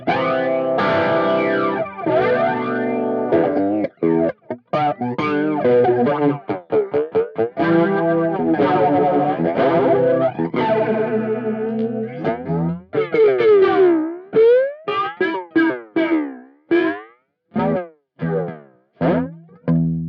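Electric guitar played through a Boss MD-200 modulation pedal set to flanger, giving a sweeping, whooshing comb-filtered tone over chords and choppy strummed phrases, loud and close with no talking.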